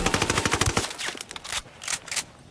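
Rapid automatic gunfire in the video game Ghost Recon Wildlands, a dense burst of loud close shots in the first second followed by scattered, quieter bursts and distant reports.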